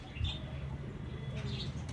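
Pigeons gathering at a water dish to bathe give soft low cooing, close and faint, with a few light chirps and rustles in the background.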